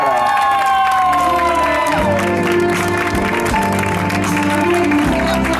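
A crowd at a birthday celebration in Cangaiba, Penha, claps and cheers continuously. Clapping, whoops and shouting voices, including children's, run loud throughout, with music or chatter underneath.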